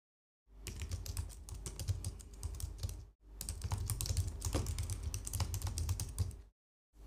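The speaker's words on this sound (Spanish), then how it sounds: "vamos a introducir, a teclear el nuevo fragmento de código" Rapid clattering keystrokes on a computer keyboard as code is entered, two close bursts of steady typing separated by a brief pause.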